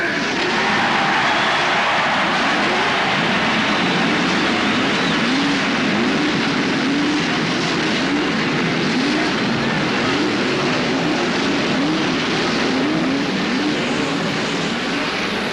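Loud, continuous roar of many 1969 Indianapolis 500 race car engines at the Indianapolis Motor Speedway, a dense mechanical drone with warbling revving tones throughout, no talk.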